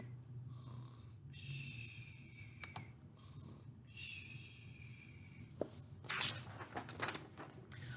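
A storyteller reading a fairy tale aloud imitates snoring with her voice, producing several soft, drawn-out snore breaths in a slow rhythm, close and fairly quiet.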